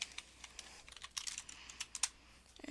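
Code being entered on a computer keyboard for a Python turtle game, with quick, uneven clusters of crisp, close key clicks and brief pauses between bursts, no one speaking.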